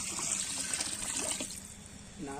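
Water poured into a pot of chicken biryani, a steady splashing pour running throughout at close range, with brief voices in the background.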